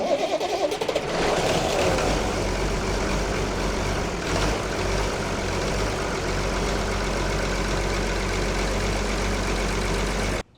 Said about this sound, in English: now that we've started the tractor